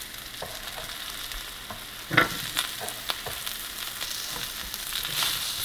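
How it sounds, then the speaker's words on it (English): Sausage frying with garlic in an oiled pan: a continuous close sizzle broken by scattered clicks and scrapes of a utensil stirring. "we're going to add the sausage"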